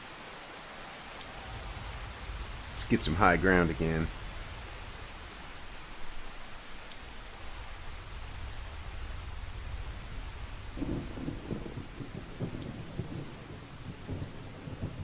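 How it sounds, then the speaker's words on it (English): Medium rain falls steadily through a foggy Skyrim landscape, with a loud rumble of thunder rolling in early and a softer, patterned rumble later, a steady hiss of rain underneath throughout and someone speaking briefly. "Foggy with the medium rain. This is a medium rain."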